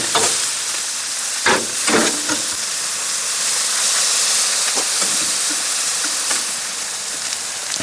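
Cheesesteak meat sizzles steadily on a Blackstone flat-top griddle, a loud continuous hiss broken by a few scraping stirs and turns of the spatula, with no voices.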